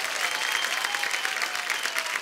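Studio audience at a dance competition show claps in a steady, dense burst of applause, close and sustained, with a faint voice underneath.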